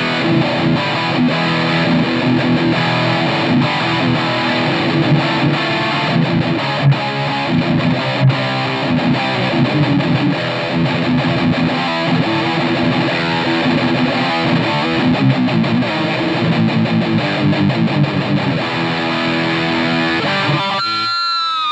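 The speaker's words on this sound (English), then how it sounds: "Let's hear a little sound clip of that retroactive 70 because I'm a huge EMG fan." Distorted electric guitar riffing on a Schecter Sun Valley Super Shredder with EMG Retroactive 70 pickups, played continuously for about twenty seconds, full and loud with no talking.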